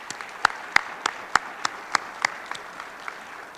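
Audience applause at a U.S. Border Patrol academy class graduation ceremony, a sparse crowd clapping with distinct individual claps rather than a dense roar, fairly loud and close, tapering off toward the end.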